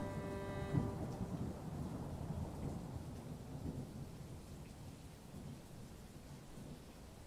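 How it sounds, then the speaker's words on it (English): A thunderstorm sweeping a post-apocalyptic industrial colony in a city builder game: a deep thunder crack early on rolls into a long fading rumble beneath steady rain, with no voices. "Damn, that storm."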